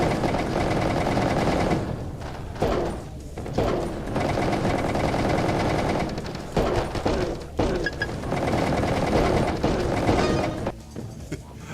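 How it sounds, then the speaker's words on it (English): Rapid, sustained automatic turret gunfire in a video game demo rattles in long loud bursts, with brief pauses between volleys and no talking over it. "oh great, this one has turrets"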